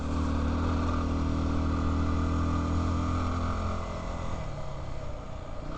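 BigDog motorcycle on a steep grade in Arizona, its engine held at a loud, steady high-rev drone near the limiter before easing off and dropping in pitch toward the end.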